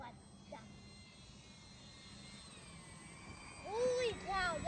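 A large radio-controlled model airplane flies overhead, its engine giving a faint, steady drone that rises and shifts in pitch as it passes, with voices talking near the end.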